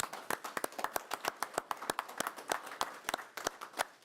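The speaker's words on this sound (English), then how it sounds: "round of applause." Scattered clapping from a small group at a county commission meeting, sharp separate hand claps in an uneven rhythm, moderately close and fairly quiet, with no talk over it.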